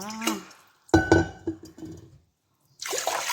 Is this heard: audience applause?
no